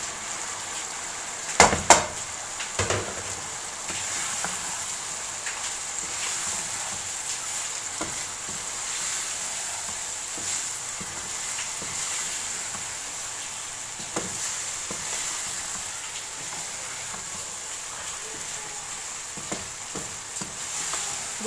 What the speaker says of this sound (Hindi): अब इसमें मैं डाल दूँगी गोभी